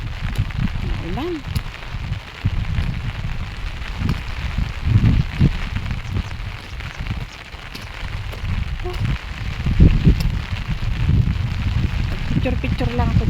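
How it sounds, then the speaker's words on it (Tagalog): Steady rain falls near a river on a roadside, a continuous broadband patter with low rumbling gusts, holding at a fairly even level throughout. "Ulan."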